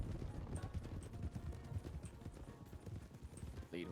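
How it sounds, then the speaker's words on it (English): Horse hooves clip-clopping in the RedM roleplay game, a steady moderate patter of hoofbeats running throughout at close range, with a faint voice and scattered game noises in the background. "Look at my new horsey"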